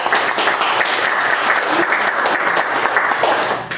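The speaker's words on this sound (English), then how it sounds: "please give a round of applause for our guest speaker for today, State Senator Steve Chan." A meeting audience applauds a state senator arriving as guest speaker, dense steady clapping filling the room at full loudness throughout and tapering slightly at the very end.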